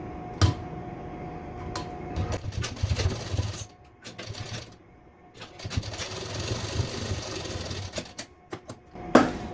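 A sewing machine stitches a suit seam in bursts of mechanical whirring, with pauses between runs, close by and at moderate loudness.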